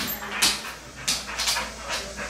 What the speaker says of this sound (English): Dogs are freaking out behind me.